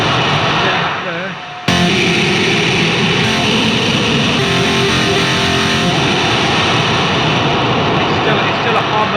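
A meantone chord on a Lumatone keyboard, fed through a heavy distortion effect, bursts in abruptly after a quiet start and holds as a loud, gritty, dense roar with shifting tones through the middle.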